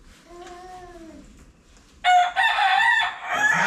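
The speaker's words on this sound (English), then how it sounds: "That's one of my old chickens." A chicken gives soft clucks, then a loud, close rooster-like crow breaks out, strained and drawn out.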